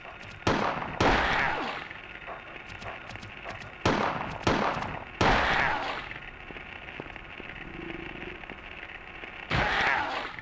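Several loud gunshots from the horror video game Silent Hill, fired by Harry, spaced irregularly with pauses between them and ringing decays after each blast.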